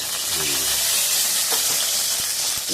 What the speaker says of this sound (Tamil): இதெல்லாம் ஒன்னா போட்டு வதக்கணும்